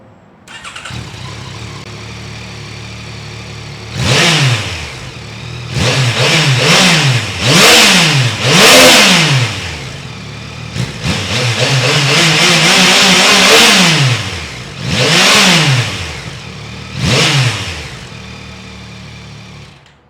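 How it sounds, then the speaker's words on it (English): A Yamaha MT-09 motorcycle engine revs repeatedly in sharp blips, rising and falling, with a longer sustained rev in the middle, loud and close. "Here is what the Yamaha MT-09 sounds like."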